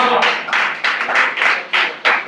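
Claps ring out at a mushaira poetry gathering, a handful of distinct, fairly close slaps in an uneven rhythm rather than a full crowd ovation.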